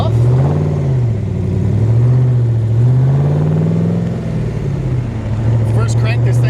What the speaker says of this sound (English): it's definitely a louder car, but for a mid-60s model sports car, I mean, this is what you want, fast and loud